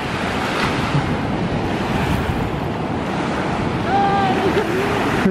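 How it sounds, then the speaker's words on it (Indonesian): Strong wind buffets the microphone while waves surge and break continuously at a clean tropical beach by a fishermen's jetty, a dense steady roar with a brief faint tone near the end. "Anginnya lumayan lah sini, kencang juga."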